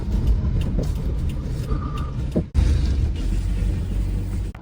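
A car rolls into the boathouse parking area at Garret Mountain park. It gives a steady low road rumble from inside the cabin, with a brief dip partway through and a faint mechanical whine.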